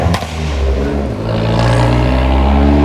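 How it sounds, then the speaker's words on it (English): A very small Fiat car engine revs loud and close on an evening Manhattan street, a rising, droning growl that swells and holds with some clatter, no talking. "That was a very tiny Fiat making that noise."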